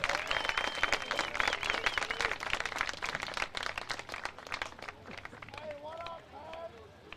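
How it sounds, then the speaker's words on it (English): Crowd applause at a Washington and Lee men's soccer senior day, steady clapping from fans in the stands with a public-address voice speaking over it. "One more round of applause for the senior class of 2025."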